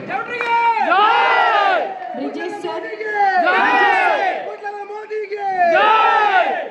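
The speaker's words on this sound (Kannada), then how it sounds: "ಜೈಕಾರ ನಿಲ್ತಾ ಇಲ್ಲ." Crowd cheering and chanting at a Bunt award ceremony in Dubai honouring Captain Brijesh Chowta, loud massed voices shouting in three rising waves with brief dips between them.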